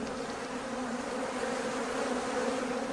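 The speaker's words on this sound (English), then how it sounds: "It's about time that I got into the hive and had a check to see how things are getting on." Honey bees in an opened hive: a dense, continuous, even buzzing hum of many insects close by, with no voices.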